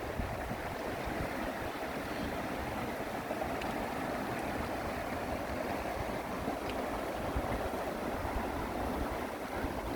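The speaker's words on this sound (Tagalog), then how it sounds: "Yung tunog ng tubig." Water flows steadily beneath a road bridge where cars pass overhead, a continuous broadband rush and gurgle like a stream, close and even throughout with no talk.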